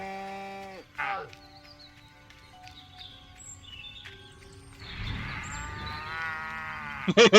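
Cows mooing in the video game Destroy All Humans, with a drawn-out low moo at the start and another bellowing moo near the end, amid faint chirps and game sounds.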